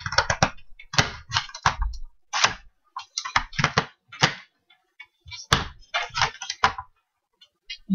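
A Fiskars AdvantEdge paper punch gives a series of sharp, close plastic clicks and snaps in irregular bursts as a piece is clicked into place, with short quiet gaps between them.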